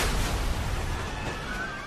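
A loud, sustained blast rumbles through an aircraft in flight after it escapes missile range, a dense roar that slowly fades over a couple of seconds.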